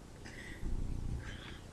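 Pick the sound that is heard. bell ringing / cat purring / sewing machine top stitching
cat purring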